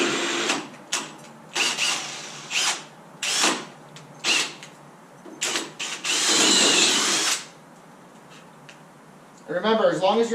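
Cordless drill boring into metal while fabricating a custom flatbed for a Ford F350, heard as several short bursts followed by one longer sustained cut, close and loud, with a brief spoken remark between runs.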